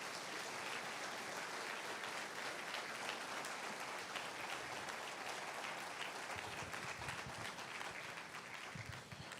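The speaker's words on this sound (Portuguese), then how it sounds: "dá uma melhor salva de palmas suas para Deus" A church congregation applauding during a Portuguese-language sermon, with thick, continuous clapping from many people, steady and loud throughout and easing only slightly near the end.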